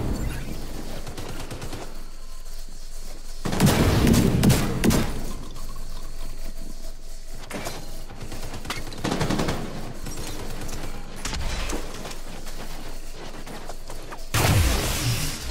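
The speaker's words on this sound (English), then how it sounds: "Rogue assault turret detected. Hostile assault turret detected." An assault turret fires in the Destiny 2 video game, loud bursts of rapid gunfire coming in several separate volleys between quieter stretches of game ambience.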